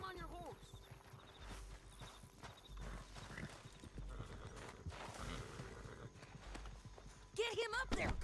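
Horse hooves clip-clop at a steady walking pace in Red Dead Redemption 2, close and continuous, with a short whinny near the end and voices talking over the hoofbeats.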